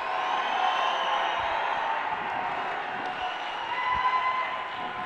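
Applause from a church congregation during a Kannada sermon, a steady, dense wash of many hands clapping that holds evenly throughout with a faint murmur of voices.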